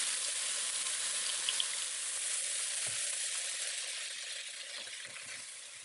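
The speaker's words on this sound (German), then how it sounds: "röste alles an. Das dauert ungefähr 5 bis 6 Minuten." Ingredients for a stuffed kohlrabi filling are roasted in a pan, giving a steady, close hiss of sizzling that fades slightly toward the end, with no talking.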